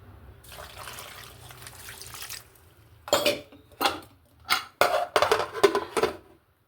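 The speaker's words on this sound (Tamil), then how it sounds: "இப்போ இதை நல்லா ஒரு சொம்பு தண்ணி ஊற்றி வேக வச்சுக்குவோம்." Water is poured into a pot of mutton set to cook, a soft trickle first, then several louder splashing pours in bursts, close by and with no voices.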